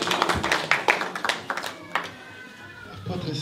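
A church congregation claps together in a burst of scattered applause that is loudest at the start and then thins out, with voices mixed in.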